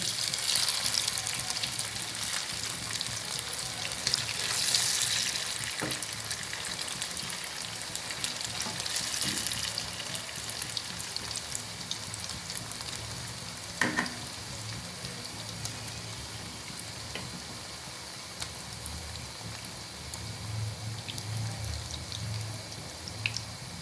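Chicken pieces frying in oil over a medium flame for Japanese-style continental chilli chicken: a steady, dense crackling sizzle runs throughout, with occasional louder pops and clinks, and nobody speaks.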